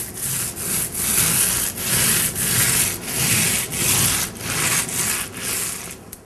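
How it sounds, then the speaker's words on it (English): A 9-inch paint roller loaded with metallic paint rolls back and forth across a wall in a rhythmic series of close, raspy strokes, with no talk. "loading up my 9-inch roller and filling in the area"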